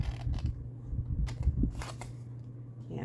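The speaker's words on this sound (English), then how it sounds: "I'm going to try to cut straight across." Scissors snip through paper to make a Halloween treat bag, giving a close run of crisp, crunchy cuts in short bursts with brief pauses between them.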